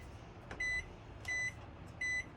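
A microwave in a 2019 Starcraft Autumn Ridge M-180BHS travel trailer gives three short, high electronic beeps as its clock button is pressed, evenly spaced over a steady low background hum.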